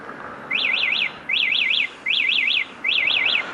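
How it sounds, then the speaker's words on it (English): An electric scooter's alarm chirps in four short bursts, each a quick warbling triple tone, evenly spaced and fairly loud. "The back's got an alarm, immobiliser and alarm thing that you can turn on."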